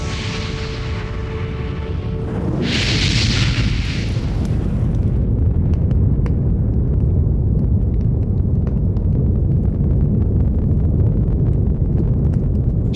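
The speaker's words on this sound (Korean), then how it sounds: "이때 소방수가 문이나 창문을 열면 가공할 힘에 폭발이 일어난다." A fire flares up violently as a door or window is opened on a smoke-filled burning room, giving a sudden loud roaring burst that settles into a sustained rumbling, wind-like roar with crackles, with no voices.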